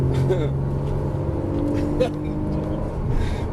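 A Porsche Cayman S at full throttle in fourth gear on a cone-marked driving course: a steady, loud engine drone from inside the cabin, with a voice faintly present beneath it.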